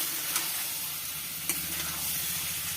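Small whole potatoes sizzle and fry steadily in a pan of hot oil for an aloo dum, with a few sharp stirring scrapes cutting through the continuous crackle.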